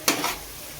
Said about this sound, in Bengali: এদিকে আমার বেরেস্তা ভাজাও কমপ্লিট হয়ে গেছে।